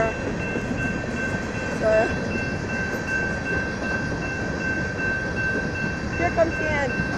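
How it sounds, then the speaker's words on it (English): A BNSF empty coal train rolls past with distributed power, a steady broadband rumble of wheels and cars holding throughout, with a brief voice heard over it. "See this train down there?"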